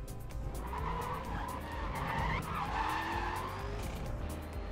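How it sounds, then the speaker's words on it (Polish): Car nitro boost in the racing video game Need For Speed World, a steady whooshing roar with tire skidding and squeal layered over a continuous engine drone, loud and unbroken throughout. "Dźwięk się zmienił nitra, ale czy wygląd?"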